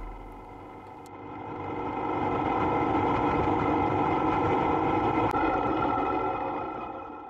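2023 Honda Africa Twin Adventure Sports motorcycle engine under way on a narrow village road, a steady mid-pitched hum swelling as it accelerates and then holding with wind noise.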